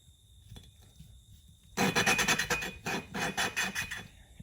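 A small engine valve is lapped against its seat with a suction cup tool, giving a close, gritty grinding rasp that starts abruptly and pulses in rhythmic twisting strokes with brief pauses.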